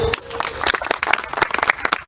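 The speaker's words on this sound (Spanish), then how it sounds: "pido un fuerte aplauso en su memoria de don Julio César Tello Rojas." A room full of people clapping steadily for about two seconds at a memorial gathering, dense and fairly loud, with a few murmured voices mixed in before it cuts off.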